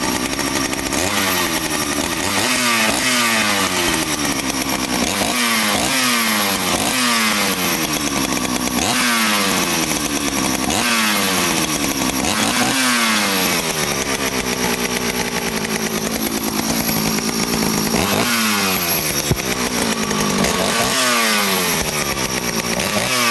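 Poulan 4200/5200 chainsaw fitted with a 2100CD carburetor, running alone and loud, its two-stroke engine repeatedly revving up and dropping back in rising and falling sweeps over a steady idle.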